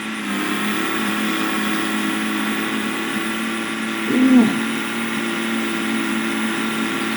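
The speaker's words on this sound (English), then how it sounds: "As you can hear, our diesel is struggling a little bit." A heavily loaded diesel truck engine labors in Farming Simulator 22, a steady mid-pitched drone that holds throughout, with a brief louder surge partway through.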